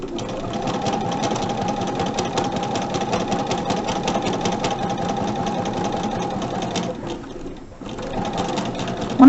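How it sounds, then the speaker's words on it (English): A sewing machine stitches a quarter-inch seam on fabric pieces for no-waste flying geese quilt blocks, running steadily and close for most of the stretch, with a brief pause near the end before it starts up again. "at my sewing machine, what I'm going to do is sew a 1/4 inch from each side of the drawn line"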